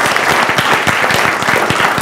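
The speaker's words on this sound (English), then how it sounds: "let's give a round of applause to the panelists" Audience applause for conference panelists at an ocean technology event, dense and steady clapping from a crowd filling the room, sustained without pause for the whole stretch.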